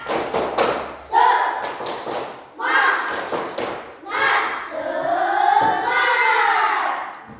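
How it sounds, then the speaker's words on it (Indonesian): Primary school classroom doing a rhythmic spirit clap led by the teacher, with bursts of patterned claps and thumps in sequences, mixed with children's voices and chanting. "Ayo, tepuk semangat."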